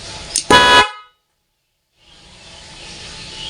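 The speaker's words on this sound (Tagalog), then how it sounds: "kailangan kapag sinwitch ko to, tutunog na yung busina natin" A Nhay 3+ Pro Music car horn in mode 1 blares loudly for about half a second after a short chirp, then cuts to silence before a low hiss of background noise returns.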